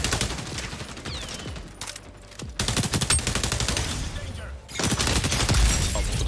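Rapid bursts of gunfire and a heavy grenade blast in the shooter game XDefiant come loud and close in quick, dense volleys, with brief lulls between them.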